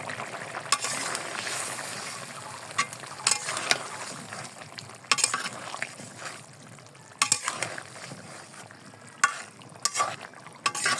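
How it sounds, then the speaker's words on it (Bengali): Curry of bata fish and stalks simmers in a pan after spice paste with ground cumin is added, giving a soft, steady sizzle with periodic sharp clacks of stirring. It sounds close and moderately quiet, with no speech. "আমার তরকারি এখন শেষের দিকে মশলাটা দিয়ে দিলাম।"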